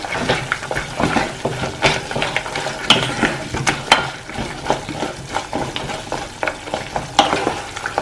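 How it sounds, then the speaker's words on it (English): Pork meat pickle stirred in a pan with cooking oil produces rhythmic scraping strokes and clacks over a sizzle, close and fairly loud, with no talking. "Add around half cup and give it a good mix."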